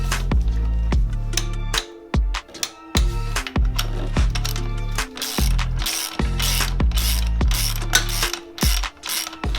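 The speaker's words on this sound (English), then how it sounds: "Torque the shock bolt to 29 foot-pounds." A torque wrench ratchets loudly and close while tightening the shock bolt on a Kawasaki KLX110L BBR Super Stock swingarm, giving rapid clicking pawl strokes in repeated bursts with short pauses between, no talking.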